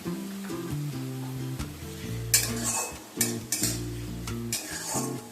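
Finely chopped tomato added to onion paste and water frying in a pan for boal fish curry, with sizzling and metal spoon scrapes and clanks over a sustained tonal background of music, close by.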